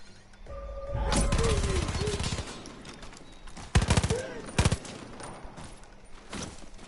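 Gunfire in a first-person shooter video game: a few sharp, loud shots and short bursts rattle over steady game background noise, alongside other game sounds.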